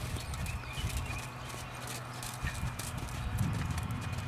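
A horse canters in a riding lesson, its hooves beating a quick, rolling rhythm on the arena footing, fairly faint and continuous, with a low murmur of voices at times.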